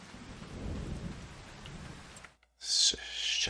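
Rain with thunder in the video game Farming Simulator 25, a steady rumbling downpour that briefly cuts out and then returns brighter and hissier.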